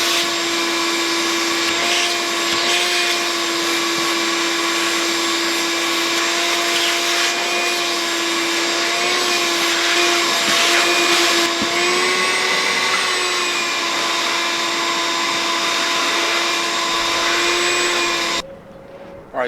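A shop vac whines steadily and close, holding a constant pitch for nearly twenty seconds while it vacuums residue off a vehicle headliner board, then shuts off abruptly at the end.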